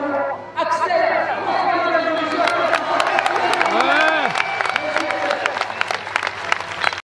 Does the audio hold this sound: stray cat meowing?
no